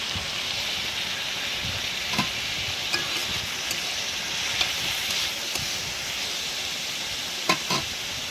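Chopped onion and green chili sizzle steadily in a hot pan while a utensil stirs them, the frying hiss continuous and close with occasional scraping clicks, no one speaking.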